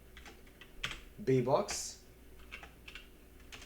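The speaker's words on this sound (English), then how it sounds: "all we have to do is type sudo" Computer keyboard keys tapped while a terminal command is entered during an Ubuntu 22.04 installation in VirtualBox, a few quiet clicks under and around a man's brief speech, with a sharper hiss-like burst near the middle.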